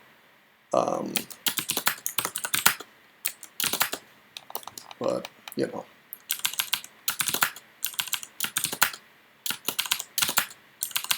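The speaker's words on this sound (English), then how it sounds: "I have my loud clicky-clacky mechanical keyboard set up, as I'm sure you can hear just fine." Loud clicky mechanical keyboard typed on close up during a computer game session, quick bursts of sharp clacking keystrokes separated by short pauses, with a few spoken words near the start.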